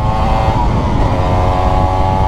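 A Honda NSR motorcycle fitted with a Malossi 180cc kit and a Dellorto VHSB 34 LD carburetor runs loud and close, holding a steady engine drone with no talk.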